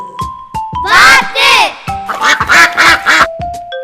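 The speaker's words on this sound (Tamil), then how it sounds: "வாத்து," Duck quacking in a bird sounds sequence, a run of loud, nasal harsh quacks repeated in quick bursts, close and clear with a short pause between groups.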